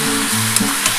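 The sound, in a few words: stirring chicken and potatoes frying in oil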